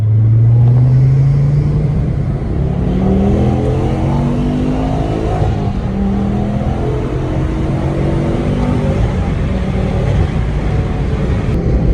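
A tuned Ford Focus ST225 with a Forge actuator accelerates under turbo boost, its loud engine drone rising steadily through several long pulls and gear changes, heard from inside the car without any talk.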